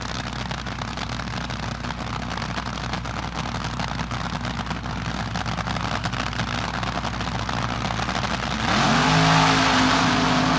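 Nitro drag racing cars from the 1976 NHRA Gatornationals, 1,500-horsepower Monza replica funny cars, roar steadily at full throttle down the quarter mile, with a fresh surge of engine noise near the end.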